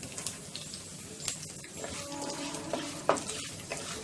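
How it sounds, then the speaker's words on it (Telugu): Cumin seeds and dried red chilli pieces frying in hot oil for a tamarind rice tempering, a soft crackling sizzle with scattered pops and a few stirring scrapes, close by and fairly quiet. "ఇవి కొంచెం వేగిన తర్వాత ముక్కలుగా చేసుకున్నటువంటి ఎండుమిరపకాయలను వేసుకోవాలి."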